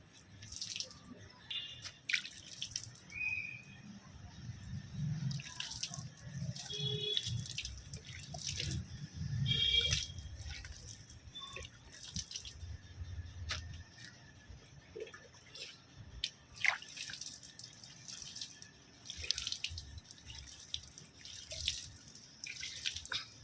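Water drips from hibiscus plants just after they have been showered, falling as a steady scatter of small, irregular patters at close range, with no voices.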